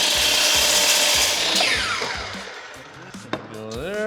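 A power saw cuts a wood board for a DIY bathtub tray, a loud close whine and rasp that winds down mid-cut, followed by a sharp knock and the motor spinning back up.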